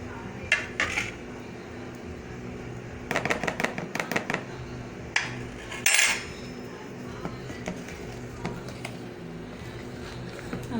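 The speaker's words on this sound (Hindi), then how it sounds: "हम बैटर में मिक्स करेंगे।" Spoon stirring vanilla cake batter with vanilla essence in a bowl, clinking and scraping against the sides in short irregular clusters, fairly close, with quiet pauses between strokes.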